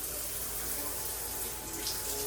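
Water runs steadily from a bathroom tap in a hotel room at Azure North, San Fernando, Pampanga, a continuous close hiss and splash with no voices over it.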